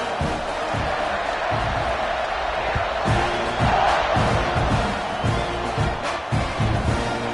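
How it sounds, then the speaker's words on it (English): A football stadium crowd roars steadily at kickoff, a dense, continuous wall of cheering and shouting that never lets up. "They're set to kick it off, and this crowd now ready to get behind them."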